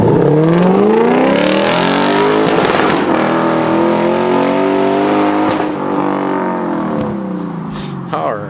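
A car engine drones loudly nearby, its pitch rising and falling as it goes past, with voices talking over it.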